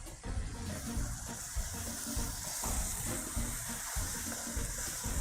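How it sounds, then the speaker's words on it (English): Chopped tomato tipped into a hot pan of sofrito, giving a steady, close watery rush and sizzle that holds for several seconds with no talking. "And we will add that tomato"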